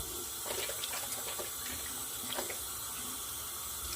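Steady tap water runs into a bathroom sink while a face is rinsed, a constant hiss with small splashes and trickles.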